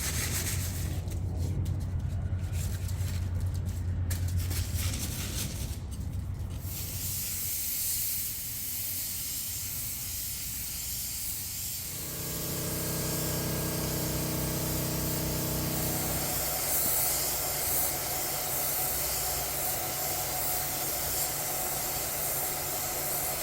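Spray gun laying base coat on a Tesla Model Y plastic bumper, heard as a long, steady airy hiss with a few brief rustles early on and shifts in tone as the spraying continues.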